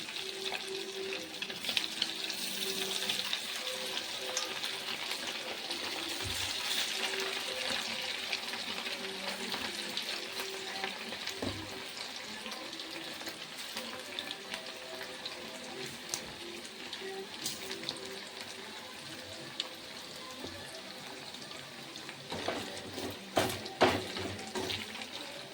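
Chicken kebabs deep frying in hot oil, a steady close crackling and bubbling hiss that holds evenly throughout, with a few soft knocks and clatters near the end and no talk.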